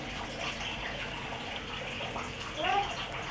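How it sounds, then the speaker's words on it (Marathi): Water pours steadily into rice flour batter in a container with a gushing, slightly bubbling sound, a faint voice speaking in the background. "अजून थोडं पाणी घालून घालते"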